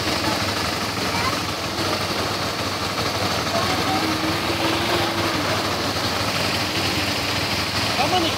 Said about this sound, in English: Look how many motorbikes.